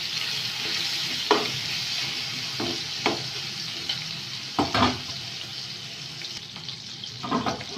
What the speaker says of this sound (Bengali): আমি চিংড়ি মাছটা একটু লবণ আর হলুদ মাখিয়ে হালকা করে ভেজে নেব।